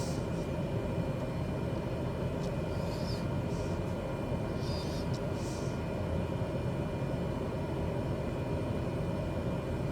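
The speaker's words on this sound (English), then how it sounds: "We'll do another touch and go and watch out for high terrain, trees and wind shear." A light aircraft doing a touch-and-go on a 600-metre gravel strip in Tasmania, heard as a steady engine drone from inside the cabin, with a few faint bursts of radio or voice above it.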